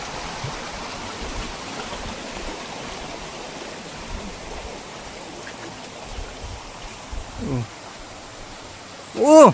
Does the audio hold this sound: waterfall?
yes